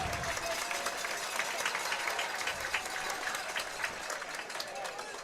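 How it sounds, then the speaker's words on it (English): Steady crowd applause in the stands at a high school football game between Center Point Eagles and Moody Blue Devils, honoring education partners; dense sustained clapping and cheering at moderate distance, with voices mixed in throughout. "Please give a round of applause for tonight's Partners in Education"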